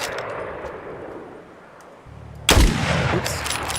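A hunting rifle fires in a video game: a sharp, loud report cracks out partway through with a ringing tail, over a steady game backdrop of ambient noise and a low hum.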